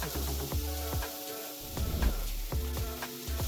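Onions and carrots sautéing in a pan for a plant-based bolognese give a steady close sizzle, with intermittent stirring scrapes and a low background hum.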